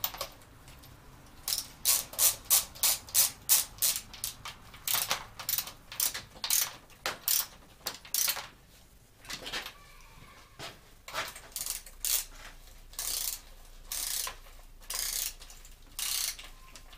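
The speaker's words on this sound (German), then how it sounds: "Achsmutter rechts, Achsmutter links. Jetzt schrauben wir fest." Axle nuts on the rear wheel of a Gazelle Basic Dutch-style bicycle are tightened with a ratcheting tool, giving rapid bursts of crisp close clicks in repeated runs, pausing briefly between strokes, with no talk.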